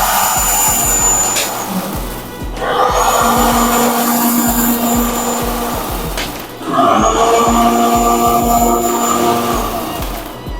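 Several cold spark machines running together under remote-programmed effects, a loud whooshing blower roar that rises and falls in bursts across the clip, with mechanical hum and no talking.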